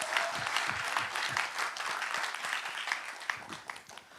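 Audience applause at a youth policy presentation festival in Yeonggwang County, Korea; steady, moderately loud clapping from a seated crowd, with distinct individual claps standing out, continuing throughout and trailing off slightly toward the end.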